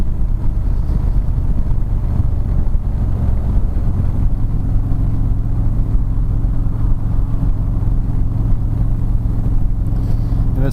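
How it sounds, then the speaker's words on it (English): Harley-Davidson Street Glide Special pulling hard in 6th gear at highway speed, a steady loud low engine drone blended with heavy wind rush, rising slightly in pitch midway as it accelerates, with no talking. "we can go from 80 to 90 pretty quick in 6th gear"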